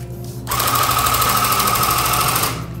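A tufting gun starts up and runs with a rapid, steady mechanical buzzing and needle chatter for about two seconds before cutting off, loud and close.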